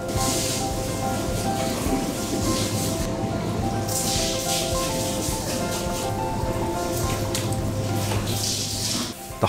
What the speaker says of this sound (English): The high-pressure water hose will remove all blood, silk and dirt inside the fish.